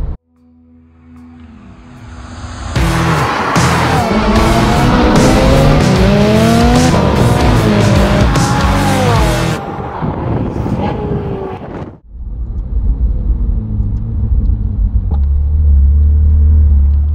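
A car drives up to the 5 Zeros Supercars storage barn in Bradford-on-Avon, loud engine and road roar with wind buffeting, a sudden cut, then a lower idling rumble.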